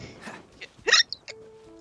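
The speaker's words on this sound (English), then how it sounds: "Hiccups are the absolute worst." Person hiccuping, one sharp close hiccup near the middle, with softer breathy sounds around it and a faint game tone after.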